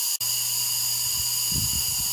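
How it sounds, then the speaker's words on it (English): An air compressor due for service exhausts air as a steady, even hiss that runs through the whole stretch at moderate loudness, with a faint low hum and a few soft knocks near the end; no talking. "So you can hear air exhausting in the background."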